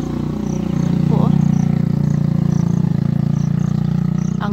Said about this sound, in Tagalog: Ang ingay ng motorsiklo guys.